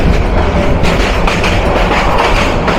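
Kishoreganj Express intercity train running at good speed out of Bhairab Bazar Junction, a loud steady rumble with rhythmic clickety-clack of wheels on rail joints, heard close from on board with no voices.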